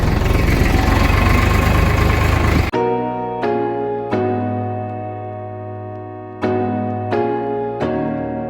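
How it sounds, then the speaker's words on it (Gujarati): A JCB excavator on a farm, its engine idling close by with a heavy, steady diesel drone, interrupted by several sharp knocks or clanks of the machine at uneven intervals. "જીસીબી ચાલે છે."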